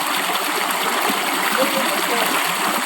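Water flows along a creek where people bathe, making a loud, steady rushing hiss with a bubbling texture that never pauses or changes.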